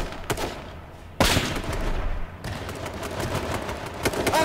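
Gunfire in the battle-royale video game H1Z1 King of the Kill: scattered sharp shots, then a denser burst of rapid reports from about the one-second mark that stays loud and busy to the end.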